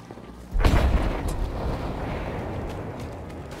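A rocket explodes in Battlefield V combat: a sudden heavy boom bursts out after a brief quiet moment, then rumbles and decays into a long gritty roar of debris and ambient battle noise.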